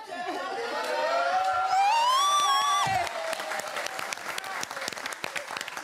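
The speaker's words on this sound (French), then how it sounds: "On l'applaudit très fort." Studio audience applause on a French television talk show, loud and sustained clapping from a crowd with a few cheers, while a host's voice and music carry over it before the clapping continues alone.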